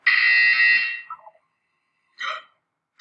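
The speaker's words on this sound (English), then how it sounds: "You will hear a buzzer. When you hear the buzzer, look up at the ceiling." A harsh electronic buzzer from the Portal 2 game, one long loud blast lasting nearly a second, then a short tail and a brief second burst after a pause, with no talking.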